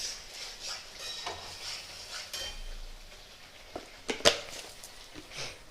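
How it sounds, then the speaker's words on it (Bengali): Quiet frying hiss of spices for a vegetarian taro-stolon dish, with intermittent stirring and scraping, plus a couple of sharper metallic clinks of a utensil against the pan. "মশলাটা ফুটছে,"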